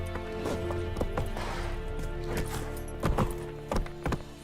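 Hooves of Roach, a horse in the video game Witcher 3, clip-clop in a steady rhythm with a few louder strikes near the end, set against a continuous droning game score.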